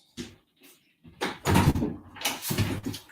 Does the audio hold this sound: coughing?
no